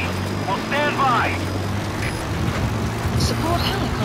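A support helicopter in Metal Gear Solid V arrives at a landing zone, its steady rotor and engine drone filling the scene beneath radio-style voices and brief electronic interface chirps.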